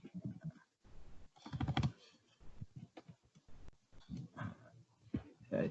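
Soft, irregular keystrokes on a computer keyboard tap quietly in short clusters with brief pauses between them, faint and close.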